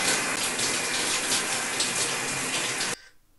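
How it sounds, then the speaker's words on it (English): Steady broadband hiss of shower water running in GTA V, continuous and close for about three seconds before cutting off abruptly into near silence. "You can also hear Tracy in the shower"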